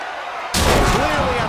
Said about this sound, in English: Flipping over with a suplex.